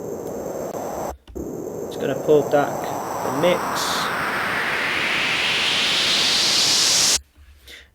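White noise riser with downsample distortion for a house or tech house track, a crunchy hiss sweeping steadily upward in brightness for about six seconds before cutting off abruptly, with someone talking briefly over its start.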